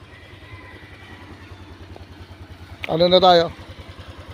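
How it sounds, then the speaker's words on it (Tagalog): A Honda Click scooter idles steadily close by, its low engine pulse putting along while someone briefly speaks over it. "Painit lang tayo ng konti ng motor"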